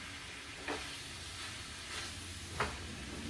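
Sausage sautés in its own grease with no added oil, a soft steady sizzle at moderate distance, broken by a couple of brief scrapes or stirs, with no voices.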